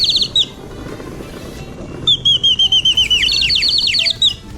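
A handmade bamboo bird whistle made by the Negrito people in a city park in Angeles City, Philippines, imitating a bird call with a series of bright, rapid chirping trills, loud and close over a faint outdoor background.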